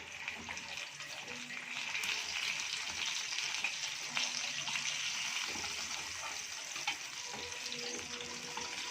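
Fish frying in oil in a pan for a fish tenga dish, a soft, steady sizzle with faint crackles, quiet and continuous.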